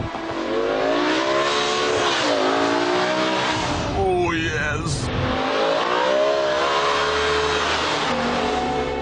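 A powerful BMW M5 engine revs hard and accelerates, pitch climbing through gear changes, loud and close, with a brief spoken exclamation over it.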